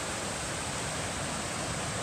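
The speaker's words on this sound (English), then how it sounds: "Another little glacial river." A small glacial river rushes on a mountain trail, a steady broadband wash of flowing water heard close and uninterrupted throughout.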